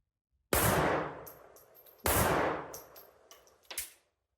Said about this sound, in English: I took out my newly acquired Czech vz.24 pistol to shoot at some steel.